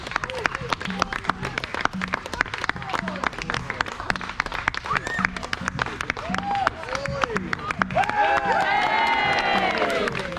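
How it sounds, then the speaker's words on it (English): A crowd at a show in Rarotonga claps hands in a steady, rhythmic beat, with voices calling out over it and cheering and whoops building louder toward the end. "All right, clap your hand for this one."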